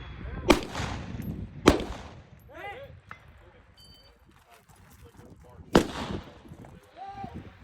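Gunshots from an Open Division practical shooting competition stage, a few sharp loud cracks spaced unevenly over a quiet outdoor background with faint talk and clatter between them.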